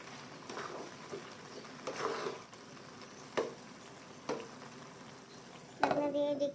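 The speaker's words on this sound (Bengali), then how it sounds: "এটাকে একটু নেড়ে" Khude rice cooking in a pan is stirred with a utensil, giving several distinct scraping strokes and light clinks over a soft sizzle, close by and fairly quiet.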